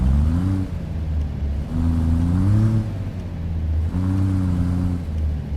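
Simulated heavy Mack semi-truck hauling double Wilson grain trailers in American Truck Simulator, a steady low diesel engine drone with rising and falling pitch as it accelerates through gears, loud and continuous with no talk.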